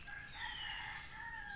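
A rooster crows in the distance, its drawn-out call layered over a steady background of backyard farm noise from chickens, ducks and pigs.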